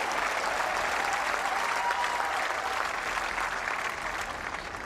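A crowd applauds steadily at a Commonwealth Games lawn bowls men's singles semi-final between Australia and Scotland, dense sustained clapping that fades slightly toward the end, with no talking.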